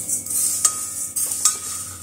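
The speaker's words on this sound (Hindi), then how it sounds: "तो इनको मैं भून लेती हूँ" Ingredients are dry-roasted in a pan on the stove, heard as a soft hiss with two or three sharp scrapes of a spatula stirring against the metal.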